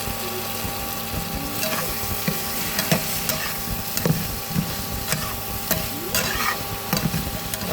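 Cashew, raisin and melon seed paste sautéed in a pan, a continuous close sizzle broken by regular scraping and knocking strokes of a spatula.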